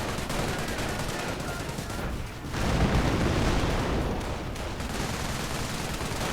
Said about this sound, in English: And another strafing run